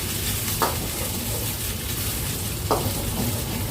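Pad Thai with egg frying in a pan: a continuous loud sizzle with two brief scraping stirs of the spatula, no talking.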